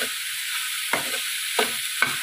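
Cabbage (gobhi) filling for paratha cooks in a pan with a steady background sizzle, broken by three short scraping stirs of a spatula, moderately loud and close with no voices.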